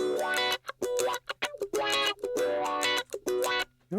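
An Ibanez electric guitar is played clean with its pickup toggle switch down and a 5-position selector in the middle position; short, bright strummed phrases ring out in a funky rhythm with crisp gaps between them.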